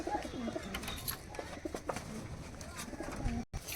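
Teddy pigeons coo softly in a loft, low repeated coos overlapping against a steady background hum, with faint rustling and no speech.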